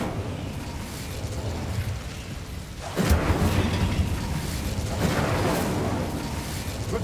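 A fiery spell burst in Hogwarts Legacy erupts with a loud whooshing blast over a rumbling game soundscape, flaring suddenly midway and sustaining a roaring, crackling wash afterward.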